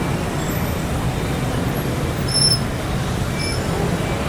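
Busy Saigon street traffic rumbles continuously nearby, with engine noise and a few faint high squeaks or horn-like tones cutting briefly through the steady roar.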